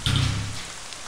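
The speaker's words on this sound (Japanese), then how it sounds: "雨が降ってるだけです。" Steady rainfall in the video game Ib, a soft continuous hiss of rain on surfaces with a low hum underneath, no voices.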